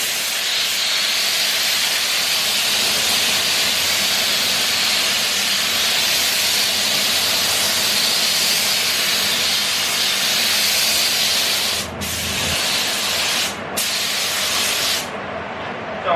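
A 3M AccuSpray spray gun spraying filler onto a car body, a loud steady airy hiss that runs almost without a break, cut by a couple of brief pauses near the end.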